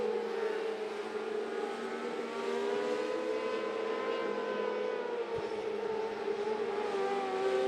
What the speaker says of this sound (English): First cars out on the track